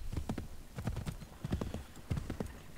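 A horse ridden in Assassin's Creed 3 clip-clops at a quick, steady gait, close and clear, with rhythmic clusters of hoofbeats running throughout and no talk over them.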